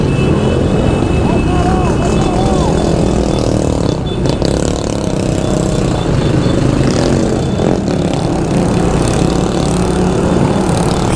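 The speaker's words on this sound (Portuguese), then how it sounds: "Tem um monte de moto vindo ainda." Engines drone and buzz loudly as a stream of motorcycles rides past nearby, a continuous rumbling with rising and falling whines.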